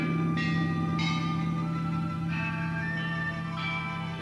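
The 580-year-old bronze Yongle bell rings with long, sustained chimes. Several fresh strikes bloom over a deep, lingering hum, and the bell is heard alone.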